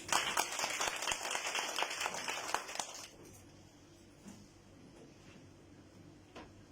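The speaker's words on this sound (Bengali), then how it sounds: "আপনাদের জন্য জোরে করো করতালি প্লিজ" Audience applause at a stage event for a women's program, a dense burst of clapping for about three seconds that quickly drops away to quiet room noise with a few scattered claps.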